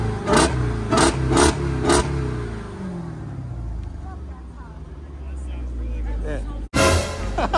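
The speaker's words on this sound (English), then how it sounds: "So let me rev it again for you guys." A 2021 Dodge Challenger Hellcat engine revs in four sharp, loud blips, then settles into a deep idle rumble before one more hard rev near the end.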